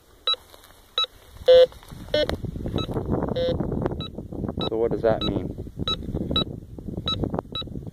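Metal detector tones while metal detecting, a series of short electronic beeps at a steady pace, some longer, with someone talking over most of them.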